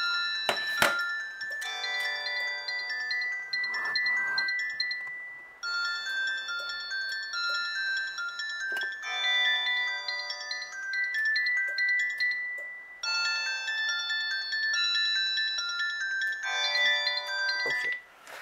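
A Panasonic KX-TG4011 DECT 6.0 cordless phone rings with a loud electronic melodic ringtone, repeating in bursts with short gaps between them, clear and close, with no one speaking.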